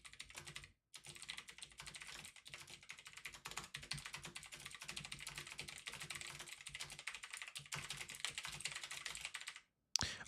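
Steady, rapid typing on a computer keyboard during a live futures day-trading session, dense key clicks running almost continuously with two brief pauses, close and fairly quiet.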